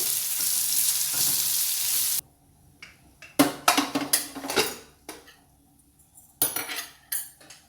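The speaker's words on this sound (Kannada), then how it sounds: "ಕ್ಯಾಪ್ಸಿಕಮ್ ಹಾಕಿ ಬೇಯಿಸ್ಕೊಂಡಿದ್ದೀವಲ್ಲ, ಸ್ವಲ್ಪ ಫ್ರೈ ಮಾಡ್ಕೊಂಡಿದ್ದೀವಲ್ಲ" Chopped capsicum fries in a pan with a loud hiss for a couple of seconds, then gives way to bursts of clattering, scraping stirring with a spoon against the pan and quieter sizzle between strokes.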